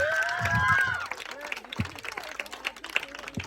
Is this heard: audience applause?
yes